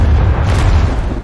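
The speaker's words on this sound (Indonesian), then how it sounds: "terdengar ledakan yang sangat dahsyat" A huge explosion in a Tomb Raider video game: a loud, sustained deep rumbling boom with heavy low-end roar filling the whole moment.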